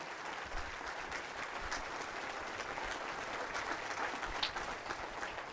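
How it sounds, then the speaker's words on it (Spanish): A church congregation at a Mass for the Solemnity of Our Lady of Guadalupe claps in a steady, even round of applause, a continuous crackle of many hands heard from a distance and sustained throughout. "Fuerte el aplauso al Rey de Reyes y Señor de señores"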